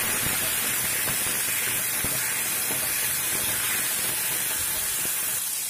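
Large chopped tomatoes sautéing in a pan for chutney, a continuous dense hiss and sizzle at steady loudness with faint stirring clicks, close and without talk.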